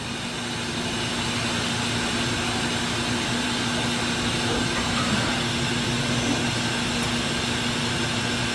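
A Doosan Puma MX-3100 lathe with its turning spindle running at 500 RPM gives a steady, loud machine whir with a constant tonal hum, unchanging throughout.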